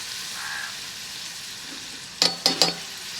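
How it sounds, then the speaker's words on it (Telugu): A steady sizzle of chicken curry frying in a pan with broad beans, broken near the end by three sharp clattering hits as tomatoes go in. It sounds close and moderately loud, with no talking. "అయితే ఇప్పుడైతే టమాటాలు వేస్తున్నా చూడురి"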